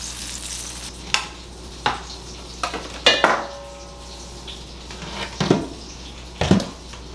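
Tilapia cooks in a pot on a steady sizzle, broken by several distinct clanks and scrapes of a utensil against the metal pot, close and loud against the quieter frying bed.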